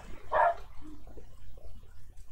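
A dog in Minecraft barks happily, one short bark near the start over a low hum, then only faint soft noises.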